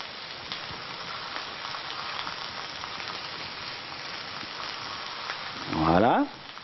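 Chicken supremes browning gently in a pan, a steady soft sizzle and crackle close by, with a brief voice near the end.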